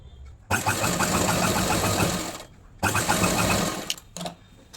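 A sewing machine stitches a kurti seam in two loud close bursts of rapid mechanical whirring and clatter, separated by a short pause and followed by a brief final run, no talking.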